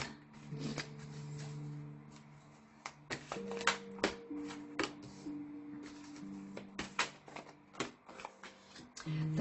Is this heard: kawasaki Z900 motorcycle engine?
no